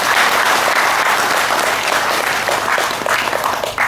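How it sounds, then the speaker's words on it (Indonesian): Applause from an audience at a Guru Puja and Guru Yoga meditation gathering, a dense, loud, sustained burst of many hands clapping that carries on evenly for several seconds. "Tepuk tangan dulu."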